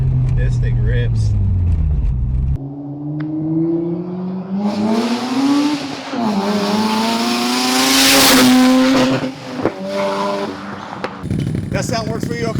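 A turbocharged Mazda RX-8 rotary with a Tomei exhaust revs hard, its pitch rising and swelling to a loud, raspy peak before dropping back, close by and mostly on its own.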